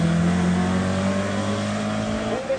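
A race car climbing the Greve De Lecq hillclimb, its engine droning loudly at a steady, high-revving pitch before shifting near the end.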